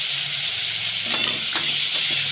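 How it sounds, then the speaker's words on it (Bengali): Spice paste with turmeric and a pinch of sugar sizzling in a pan for a soya muitha dish, a steady fry hiss under a few soft scraping stirs, close and moderately loud, with no talk. "ভালো করে কষিয়ে নেবো মশলাটা"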